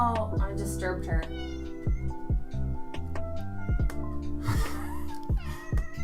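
A loud pet cat named Dispy meows repeatedly and insistently, close by, mixed with people talking and soft background sounds throughout.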